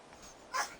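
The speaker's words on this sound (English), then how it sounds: "Oh, silly dogs." Dogs indoors give one short, sharp bark-like yelp near the end of a quiet moment, fairly faint and brief.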